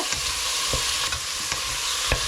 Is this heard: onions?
yes